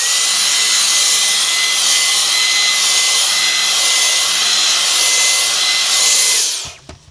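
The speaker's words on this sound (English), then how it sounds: "So let's put this bad boy at full throttle." A Dyson vacuum with a dog grooming attachment roars steadily at full power through dog hair, loud and close, with a constant high whine, then cuts off abruptly near the end.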